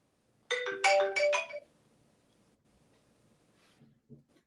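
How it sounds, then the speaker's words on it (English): A telephone ringtone plays a quick burst of bright electronic tones, loud and close for about a second, then cuts off, leaving quiet room tone with a few faint clicks. "Sorry about the phone."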